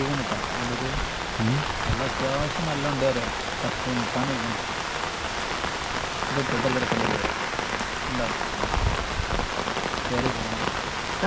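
Heavy rain pours steadily on surfaces while travelling on Munroe Island, a dense close hiss running throughout, with people talking over it.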